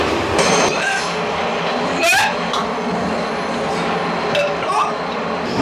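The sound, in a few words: train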